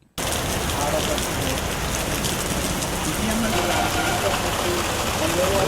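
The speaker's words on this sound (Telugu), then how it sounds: "విశాఖ జిల్లా నక్కపల్లిలో భారీ వర్షం కురిసింది" Steady, dense heavy rain from a deep depression fills the clip from start to end, loud and constant, with faint voices murmuring underneath.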